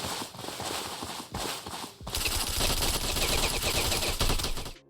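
Rapid bursts of gunfire from the third-person zombie shooter game Zombie War: New World, loud and dense, with a short pause before a sustained, heavier barrage that runs to the end.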